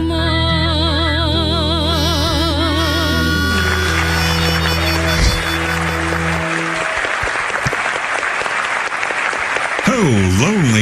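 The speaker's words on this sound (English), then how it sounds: "that round of applause there was so strong" Audience applause on a weekly radio program, dense clapping that surfaces after a sung passage and carries on steadily under and after the music.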